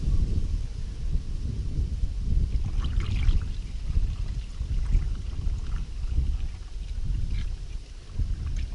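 Strong wind buffets the microphone with low, continuous rumbling gusts, rising and falling throughout with no talk.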